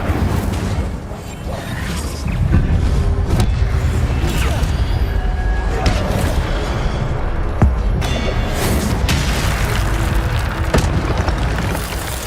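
Repeated fiery spell blasts in Hogwarts Legacy on PS5, booming and whooshing bursts packed closely over a dense, loud combat bed of crashes and rumble, with no clear voices.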